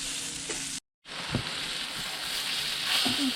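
Crappie and perch fry in a hot pan with a steady, close, loud sizzle and a few faint pops and clinks. A brief cut to silence interrupts it, and no one talks.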